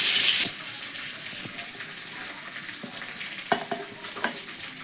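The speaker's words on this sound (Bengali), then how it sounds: "এটা আর একবারে ভাজবো আমি দুবারে ভেজে নেব" Chicken pieces fry in a pan with a low, steady sizzle. It follows a brief louder rush at the start, and a few sharp clatters and stirring knocks come near the end, with no talk.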